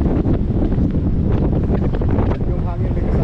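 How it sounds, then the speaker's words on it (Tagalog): Strong tropical storm wind roars and buffets the microphone at a deserted public beach in Bermuda, a loud continuous gusty rush with a voice speaking underneath. "Malakas na yung hangin."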